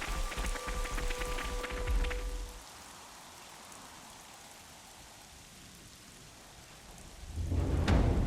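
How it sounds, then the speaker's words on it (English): Rain falls in the video game Xenoblade Chronicles 3 as a steady, hissing wash. A faint tone fades early on, and the downpour swells louder again at the end. "Seems like the rain's coming."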